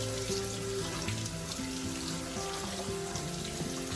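Tap water runs steadily over canned beans being rinsed in a kitchen sink, a continuous close splashing hiss with no pauses.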